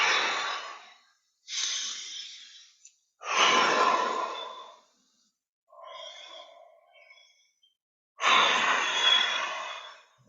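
Slow, deep breaths during a guided qigong breathing exercise, four long airy exhales and a quieter inhale separated by silences, close and unhurried.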